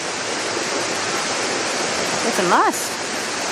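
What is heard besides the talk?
waterfall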